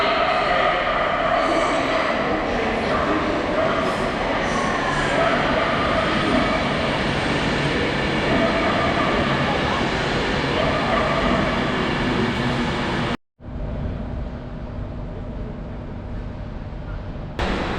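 A train runs toward Stansted Airport, heard as a loud, steady interior rumble and roar that holds throughout, briefly cutting out near the end before resuming.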